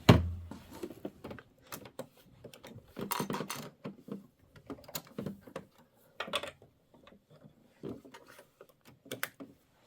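An embroidery sewing machine clicks and clatters in short bursts while its bobbin seating is checked. The small mechanical taps and snaps are close and sparse, with quiet gaps between them.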